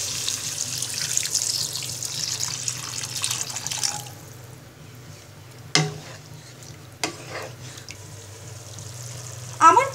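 Water is poured into a pan of pigeon meat that has been sautéed for a Bengali bhuna, giving a steady, fairly quiet watery pouring and stirring sound with a few brief clinks.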